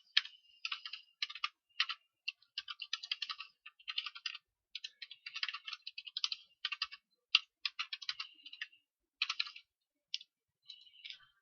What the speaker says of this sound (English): So I shall type a very quick one in here.